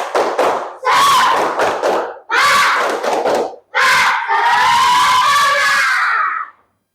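A class performing a rhythmic clap chant, bursts of group claps and shouted chanting in a tight pattern of short phrases, ending in a long sustained group shout, loud and close.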